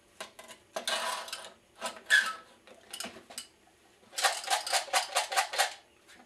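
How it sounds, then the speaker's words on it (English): A homemade maraca made from a can is shaken in quick bursts, giving gritty rattling shakes in uneven clusters, ending in a rapid rhythmic run of shakes. "Maraca effect."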